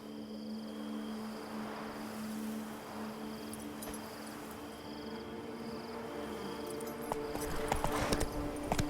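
Roach the horse's hooves clip-clop in The Witcher 3 against a soft bed of crickets, faint at first, then louder and quicker near the end.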